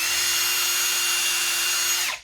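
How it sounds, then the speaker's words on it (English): Power drill pre-drilling a pilot hole in thin material for a homemade roller cart, a loud steady whine at constant speed for about two seconds before spinning down abruptly. "what you want to do is you want to pre-drill"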